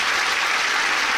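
Audience applause at a French comedy show, a dense burst of clapping from a crowd, loud and even across a short span.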